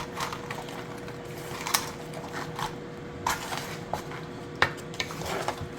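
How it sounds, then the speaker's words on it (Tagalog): Large crabs being stirred in coconut milk in a pot with a squash, a wet clatter of shells and a spoon knocking against the pot in irregular bursts, close up with a faint hum beneath, no voices. "Haluin natin para magpon yung gata sa crabs."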